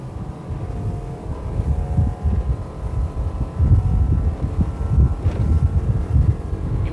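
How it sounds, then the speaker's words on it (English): A Ranieri Atlantis 24 motorboat accelerating to top speed, its engine a heavy, steady low roar building in surges, with wind buffeting the microphone and water rushing against the hull. "now let's speed up to find the top performance of the Atlantis 24"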